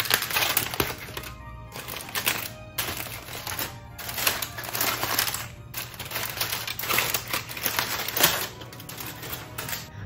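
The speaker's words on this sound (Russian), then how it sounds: "Сейчас открываем фольгу," Crinkly aluminium foil peeled back from a baking dish of pork tenderloin braised with garlic and bay leaf, a run of close, irregular crackles and rustles over about ten seconds, with no talking.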